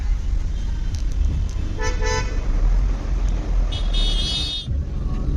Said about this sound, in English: we are stuck in traffic at Porvorim, so this is the Kokero circle